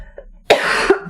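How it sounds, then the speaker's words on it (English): One close, loud morning cough, a single harsh burst after a short breath, heard alone. "I just tend to cough in the morning"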